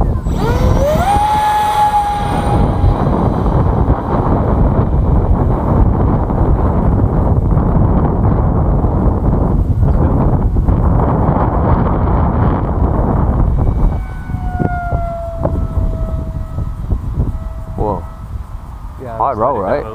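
EDF Deltawing RC jet flying at full throttle outdoors, a steady loud rushing roar heavily buffeted by wind noise at the microphone, with a rising whine near the end and people talking over it.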